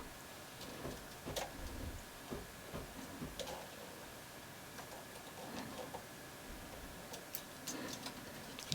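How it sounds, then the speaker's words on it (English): Light, repeated clicks and clacks from stitches being moved on a Brother 260 bulky knitting machine during a dog sweater decrease, faint and irregular over a steady low hiss with no talking. "So now I'm going to start decreasing. I move 2 stitches in."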